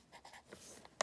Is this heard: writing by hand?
yes